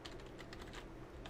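Fingers type on a computer keyboard in a steady flurry of quick, close plastic key clicks, with no voices over them.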